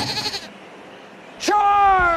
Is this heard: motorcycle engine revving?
no